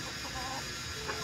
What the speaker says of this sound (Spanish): Ahí se viene corriendo el gallo.